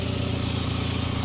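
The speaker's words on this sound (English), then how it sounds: "overall I think the engine is okay. It's running" A Saab car engine idles steadily after a turbo restoration, a loud, even mechanical drone with a fast regular pulse and no break, running alone close by.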